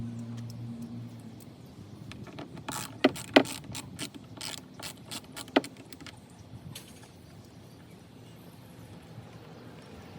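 Screws are worked loose from a Dodge Journey door lock actuator with a ratcheting tool, a quick series of close clicks and small metallic taps with a few sharper clinks, with no talking.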